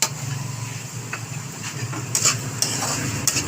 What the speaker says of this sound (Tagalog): Halo-halo lang.